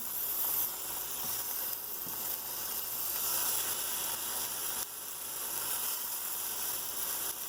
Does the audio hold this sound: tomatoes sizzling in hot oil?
yes